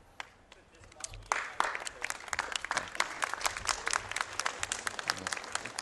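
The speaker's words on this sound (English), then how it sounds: "They were applauding you" Crowd at a senator's education bill event breaking into applause, starting sparse and quiet, then swelling into brisk, sharp clapping that continues steadily at moderate distance, with voices mixed in.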